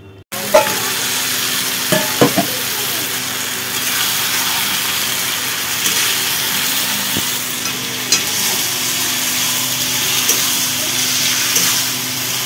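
Meat dropped into a pan of sizzling spice masala, a loud, steady frying hiss with scattered clatters and scrapes as it is stirred, close by with no talking.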